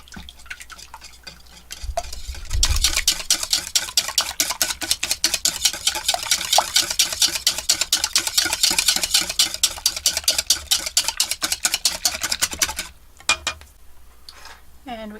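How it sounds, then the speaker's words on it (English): Zucchini bread batter for gluten-free chocolate chip loaf being whisked in a bowl in a boat galley, a fast steady rhythmic scraping and clattering that runs loud and close for about ten seconds before stopping. "Whisk that up."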